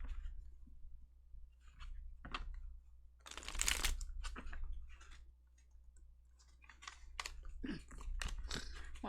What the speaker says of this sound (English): Why am I like so terrible at shuffling?